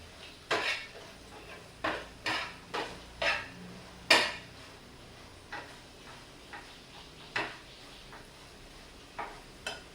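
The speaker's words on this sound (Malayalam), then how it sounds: "മഞ്ഞൾപ്പൊടി ഇട്ട് നല്ല സെറ്റാക്കി നമുക്കൊന്ന് ഇളക്കാട്ടോ" A spoon stirs turmeric powder in a cooking pan, giving a dozen or so irregular metallic clinks and scrapes against the pan, some sharper than others, in a quiet kitchen.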